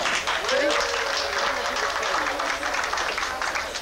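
Audience applause fills the room as steady clapping at moderate loudness, with a voice speaking over it.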